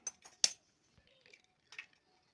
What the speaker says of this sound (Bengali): ডিমটাকে আমি ফাটিয়ে নেবো